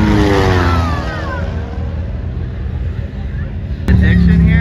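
A UTV engine screams at full throttle in a short-course race on the Sand Hollow sand track, a continuous loud mid-pitched roar with rising rev sweeps, a sharp jump in volume near the end, and voices talking over it.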